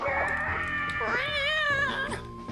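A cat-like yowl from a Crash Bandicoot video game character, a warbling, pitch-bending meow sustained for over two seconds, loud and close against game music.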